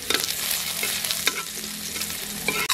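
Garlic sautéing in a hot pan, with a loud, continuous sizzle and occasional stirring clicks and scrapes, close up with no voices.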